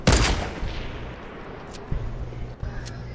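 Video game gunfire from a PS4 shooter: a loud burst of rapid shots at the start, then fainter scattered shots and two sharp bangs over a low game background.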